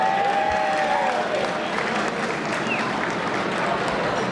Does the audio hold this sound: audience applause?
yes